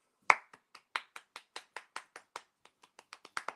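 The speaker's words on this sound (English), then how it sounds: "Give yourself a round of applause." A single person claps hands in a loose, uneven run of about twenty sharp claps over a few seconds, close and dry with silence between strikes.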